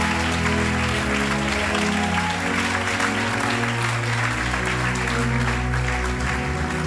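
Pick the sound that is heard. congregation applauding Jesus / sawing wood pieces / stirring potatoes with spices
congregation applauding Jesus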